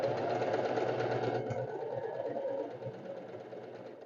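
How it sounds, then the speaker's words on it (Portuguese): Sewing machine running steadily as it stitches a side seam on a fabric sleeve, a close continuous mechanical whir that slows and fades toward the end. "E vamos fazer a costurinha aqui do lado."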